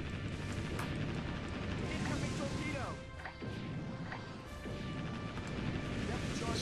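Torpedoes launch and explosions crash against cruisers in the naval combat game Warship Gunner 2, with dense, continuous booming and smashing impacts layered over a loud, busy battle din.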